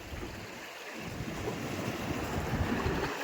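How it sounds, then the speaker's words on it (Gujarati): Heavy rain pours down over the open sea, a dense, steady broadband hiss and patter mixed with wind and waves, loud and continuous throughout. "દરિયામાં ફૂલ વરસાદ પડી રહ્યો છે જુઓ ઘણો બધો વરસાદ વરસી રહ્યો છે"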